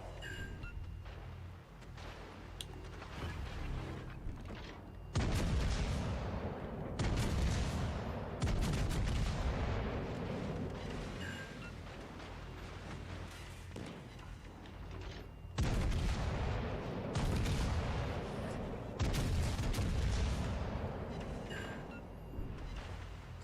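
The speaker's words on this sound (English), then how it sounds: "Atlantico secondaries are starting to shoot" Secondary guns of the battleship Atlantico fire in World of Warships: Legends, with heavy booming salvos arriving in a few loud clusters and rumbling gaps of lower battle noise between them.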